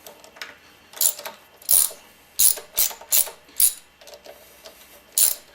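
A hand ratchet clicks in short, sharp bursts while loosening axle clamp bolts on a BMW F650GS motorcycle. There are about eight close, bright clicking strokes with brief pauses between them.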